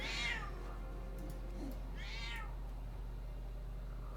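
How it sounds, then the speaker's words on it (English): A house cat gives two drawn-out meows, one at the start and another about two seconds later, close and clear against a quiet room with a low steady hum underneath. "would you stop meowing like that?"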